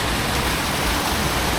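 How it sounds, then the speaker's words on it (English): Rain falling on a hiking trail near a canyon in the Grampians, Victoria: a steady, dense broadband hiss that stays even throughout, close and moderately loud, with no voices. "it's just started to rain"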